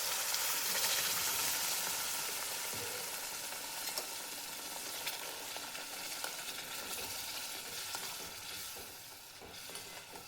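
Tomato puree frying in oil in a pan for masala bhindi, a steady dense sizzle with light stirring scrapes, loud at first and easing slightly, with no talk.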